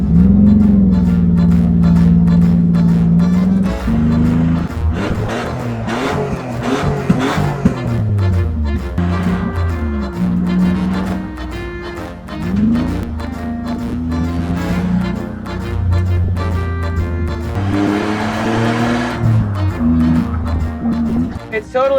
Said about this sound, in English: drive it around the block a little bit, rev it out